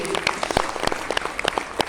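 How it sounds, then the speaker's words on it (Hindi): Applause breaks out at a talk on crypto coins, honoring a man named Jagtar, with individual claps sounding loose and scattered, close by and moderately loud, and no one talking. "एक जोरदार ताली हमारे जगतार जी के लिए होनी चाहिए"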